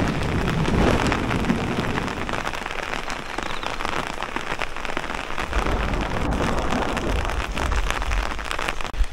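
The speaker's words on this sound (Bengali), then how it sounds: "কদিন ধরে টানা বৃষ্টি হচ্ছে" Heavy, continuous monsoon rain in Darjeeling drums steadily on surfaces nearby, a dense hiss of drops with a low rumbling undertone throughout and no voices.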